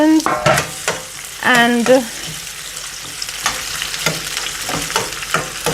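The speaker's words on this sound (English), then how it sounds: "I'm gonna add the onions" Onions frying in a pan for a family dinner, a steady sizzle broken by scraping stirs, with brief speech at the start.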